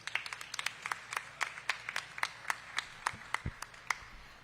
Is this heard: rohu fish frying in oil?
no